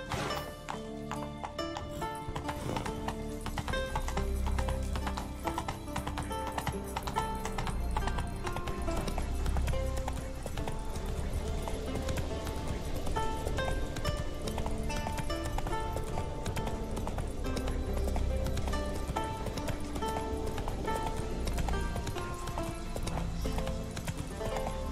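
A horse gallops in The Witcher 3: Wild Hunt, with steady rapid hoofbeats under a dense, continuous game score and ambience throughout.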